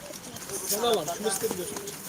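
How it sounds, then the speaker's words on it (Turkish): Pigeons coo softly indoors amid a busy, reverberant space, their throaty calls mixed with faint murmuring voices. "İçeri kuş çok."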